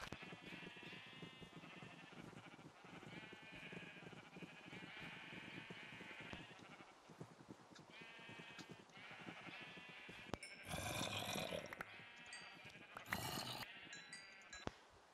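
Sheep bleat repeatedly in a video game, a steady run of overlapping animal calls at moderate level, broken later by a couple of louder bursts of game noise.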